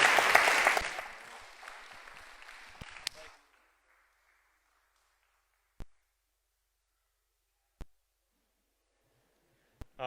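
Applause from an audience at a talk fades out over about three seconds, thinning to scattered claps before near silence broken only by a few sharp isolated clicks.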